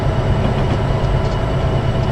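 A train in the video game Train Sim 2015 runs through a curve on the descent known as "The Slide". It gives a loud, steady, close rumble of wheels and wagons on the rails, with no voices.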